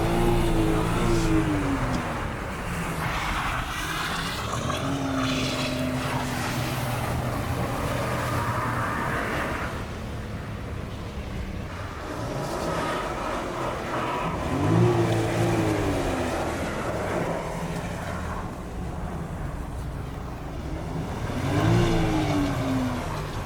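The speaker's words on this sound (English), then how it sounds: "Car's eating red line, and Bryce is coming in hot." A Subaru WRX engine revving hard near redline as the car slides, with rising and falling pitch sweeps that come in repeated surges over a constant loud engine drone, with no talk.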